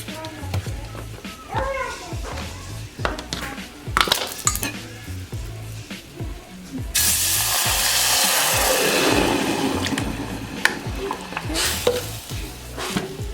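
Salsa sizzling in olive oil in a pan as it is stirred, with scraping utensil strokes and a loud frying hiss swelling midway, a voice talking over it at times.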